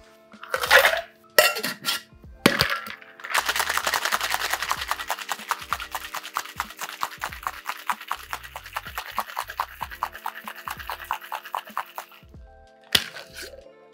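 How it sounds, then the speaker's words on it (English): Ice rattles hard inside a cocktail shaker as a honey egg flip is shaken, a fast, steady churning lasting about nine seconds after a few separate knocks and clinks, then a final clank. "add ice and shake for a further 10 to 12 seconds with ice"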